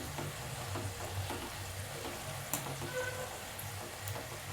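Khari shankarpali frying in oil on low gas, giving a steady, soft sizzle throughout with faint light crackles, close and alone without any talking.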